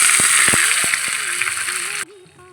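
Mustard seeds and cumin sizzle loudly in hot oil, a dense hiss with a few sharp pops and a hum under it, then cut off abruptly near the end.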